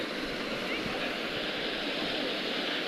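Water rushes steadily at a waterfall in Taif, Saudi Arabia, a constant broadband hiss with some wind buffeting, while a person speaks over it.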